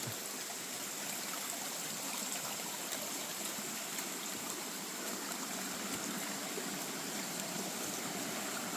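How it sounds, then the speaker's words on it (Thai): A forest creek flows steadily in the woods of Nan, a continuous close babble and trickle of water with no talking. "น้ำห้วย"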